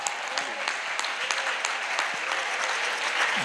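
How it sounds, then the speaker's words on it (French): Congregation clapping during a church worship service, a dense, steady patter of many hands with sharp individual claps throughout, loud and continuous, with faint voices underneath. "Clap offering to Jesus."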